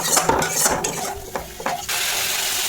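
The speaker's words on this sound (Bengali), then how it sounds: "ভালো করে মশলার সাথে মিশিয়ে নেব, আর একটু কষাবো যতক্ষণ না মশলা থেকে তেলটা ছেড়ে আসছে" Yogurt being stirred into spice masala in a pan for doi katla, a Bengali fish curry, giving soft scraping and clinking of a spoon against the metal pan with a faint sizzle, close and alone.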